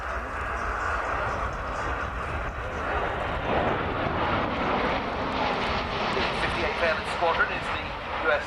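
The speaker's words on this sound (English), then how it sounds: "running in from the right now at high speed, the Boeing C-17A Globemaster 3 of the United States Air Force" USAF Boeing C-17A Globemaster III military transport jet flying past at high speed at the Royal International Air Tattoo, a loud continuous jet roar that builds and rumbles, with an announcer talking over it.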